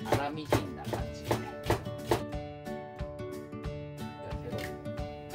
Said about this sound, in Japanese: 玉ねぎ半分ぐらいあれば、粗みじんな感じ